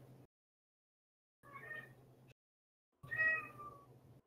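A cat meows twice, each cry short and fairly clear against near silence, with a faint voice-like murmur at the start.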